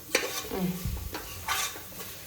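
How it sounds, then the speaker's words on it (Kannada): Vegetables for a togarikalu (fresh field bean) pulao frying in a pan, with a few bursts of scraping stirring over a soft sizzle, close and alone. "ಈಗ ಇವಾಗ ಸ್ವಲ್ಪ ಫ್ರೈ ಮಾಡ್ಕೊಳ್ಳಿ"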